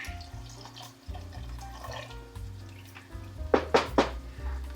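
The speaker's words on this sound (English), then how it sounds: "Put a hole in the box and it pours out." Broth pours from a punctured carton into a soup pot, a steady liquid trickle under low kitchen hum, ending in a few louder splashing glugs.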